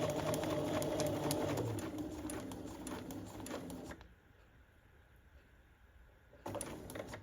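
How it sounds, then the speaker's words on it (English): A sewing machine stitches a quilt block. The rapid, fairly quiet mechanical chatter runs steadily, breaks off for about two seconds, then starts again briefly. "I am going to take 1 stitch over. I did do a stitch over."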